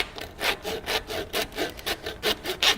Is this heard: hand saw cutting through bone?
yes